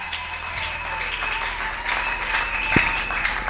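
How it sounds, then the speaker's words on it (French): An audience at a church service applauds steadily, a continuous wash of clapping at moderate level with a brief louder knock partway through. "Applaudissez très fort pour le Seigneur."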